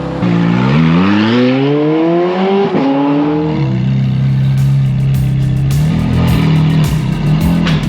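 A wrecked, rebuilt Ferrari 430 Scuderia revs hard while driving, its loud, close exhaust note climbing steeply in pitch, dipping briefly, then settling into a sustained roaring drone with crackling bursts.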